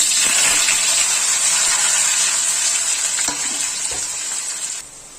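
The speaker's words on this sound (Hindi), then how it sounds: "अब मैं इसको फ्राई करूंगी।" Steady, loud sizzling of potatoes frying in hot oil, with occasional clinks of a utensil stirring the pan, easing slightly near the end.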